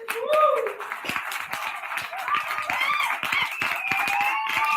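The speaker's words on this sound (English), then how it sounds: "That's their people applauding." Open mic night audience clapping and applauding steadily throughout, a busy patter of hand claps mixed with crowd noise and some voices talking over it.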